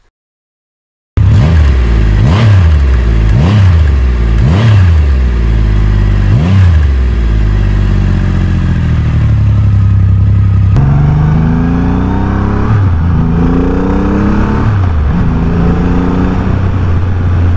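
A 2023 Triumph Rocket 3 R motorcycle engine revs hard several times in quick succession, each pull rising sharply, then settles into strong, steady acceleration through the gears, loud and close.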